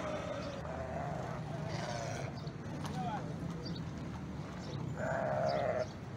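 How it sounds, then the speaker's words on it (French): Sheep bleat from crowded pens at a livestock market ahead of Tabaski, a few loud calls standing out over a steady background of murmuring voices and market bustle. "À Liberté 6, des enclos de moutons à perte de vue, mais peu de clients à l'horizon."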